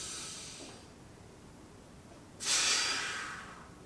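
Slow breathing during a back and hip stretching session: a soft exhale fades out, a pause follows, then a sharp, breathy inhale swells up loud and close before tailing off.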